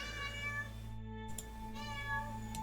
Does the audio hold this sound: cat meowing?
yes